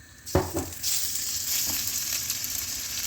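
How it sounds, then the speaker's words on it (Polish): Chicken pieces hit a hot oiled pan and sizzle steadily, with a couple of sharp clatters as they land and a continuous frying hiss filling the rest. "I na rozgrzaną patelnię kurczaczka"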